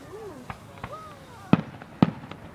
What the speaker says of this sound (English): those are the rookies trying to do fireworks